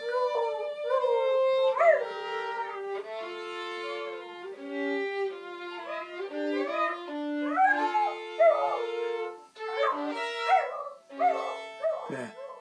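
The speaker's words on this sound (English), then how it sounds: "I don't think the dog was exactly laughing. I think that was called howling" Dog howling along with a violin, long wavering howls and yips sliding in pitch over sustained bowed notes, both fairly close, continuing for over ten seconds with the howls rising and falling.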